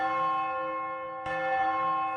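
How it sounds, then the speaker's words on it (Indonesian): A single church bell tolls steadily with a long, ringing hum, then a second strike lands at about the midpoint and rings out again, loud and close, with no voices. "Sebuah lonceng gereja berbunyi"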